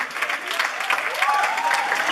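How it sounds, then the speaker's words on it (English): Audience applause for performers at a closing event in Pune, a dense, steady wash of clapping close and fairly loud with some crowd noise mixed in. "Can we have a huge round of applause for them?"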